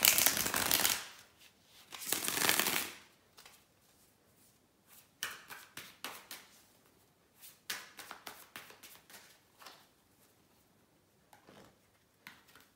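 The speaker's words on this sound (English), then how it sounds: "just give me a couple of seconds to shuffle the cards" Tarot cards being shuffled by hand: two long riffling bursts followed by a series of quicker, lighter flicks and taps, close up with no talking.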